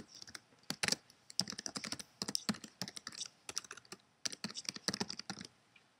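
An email address being typed on a computer keyboard into an online donation form, rapid irregular clicking keystrokes in bursts with brief pauses, close and clear, no speech.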